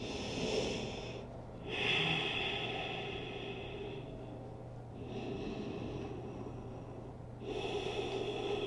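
Slow, deep breathing during a slow-flow yoga practice, with long drawn inhales and exhales rising and falling in a steady rhythm, close and quiet with no talking.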